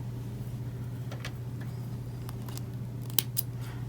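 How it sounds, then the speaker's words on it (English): Scissors snip a thread near a sewing project, a few faint crisp clicks over a steady low hum, with the sharpest cut near the end. "once we trim our little thread here"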